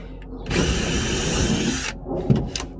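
A power drill whirs loudly for about a second and a half, then stops as the drill bit breaks, followed by a few quiet clicks and knocks; work on a 1982 Bayliner Capri boat.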